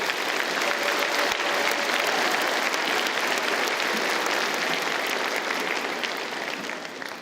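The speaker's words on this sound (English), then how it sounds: "can we have a huge round of applause for them and my stage party?" A large graduation ceremony audience gives a huge round of applause for the staff, volunteers and stage party, a dense, sustained wash of clapping that carries on steadily and fades slightly near the end.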